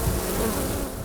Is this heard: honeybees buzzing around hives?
yes